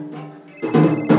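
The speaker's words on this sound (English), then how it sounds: "That's my phone. Yo, I gotta take this." A mobile phone ringtone rings out in two loud, tonal bursts with a bright melodic pattern, the second burst starting about half a second after the first.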